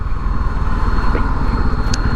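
A Bajaj Pulsar 250 motorcycle engine runs close by with a steady low rumble and throb, loud and continuous, a faint higher whine on top and no speech.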